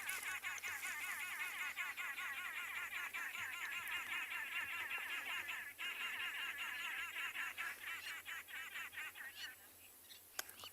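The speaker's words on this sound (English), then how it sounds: "It was the arrow-marked babblers that you might have heard." A group of arrow-marked babblers calls on an afternoon safari in South Africa, a loud, harsh, rapidly repeated chattering chorus that runs continuously and fades slightly toward the end.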